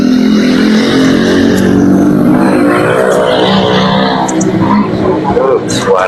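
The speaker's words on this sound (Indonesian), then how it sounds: "Suara ini knalpot." An engine revs loudly and steadily, its exhaust roaring up close, with people talking over it throughout.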